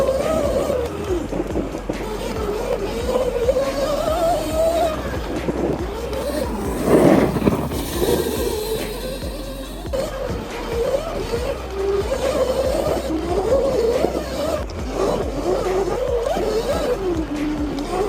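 An ETM RTR XL electric dirt bike ridden at full power at 12.5 kilowatts, its motor whine rising and falling steadily over loose terrain for the whole stretch, loud and close with wind and tire noise.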